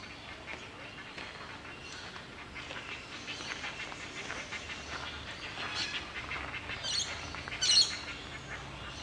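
Birds calling at a zoo, with an ostrich enclosure nearby: a steady wash of chirps and squawks with a few duck-like quacks, rising to a brief louder burst of calls near the end.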